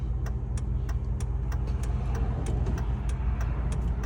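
A manual-transmission car cruising on a Canadian highway near the 110 km/h limit, with a steady loud cabin rumble of engine and road noise, heard close from inside, without speech.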